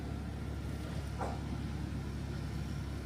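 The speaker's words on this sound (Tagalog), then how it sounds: "I-start ko na kaya yung sasakyan." A car engine idles steadily while warming up during a snowstorm on Long Island, New York, giving a low, even rumble with a faint passing whoosh partway through.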